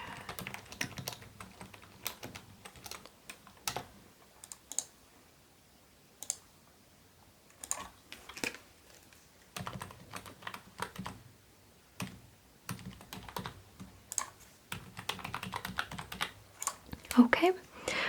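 Close, soft typing on a computer keyboard at a hotel spa front desk, coming in quick clicky bursts separated by brief quiet pauses over roughly eighteen seconds, with faint soft speaking now and then.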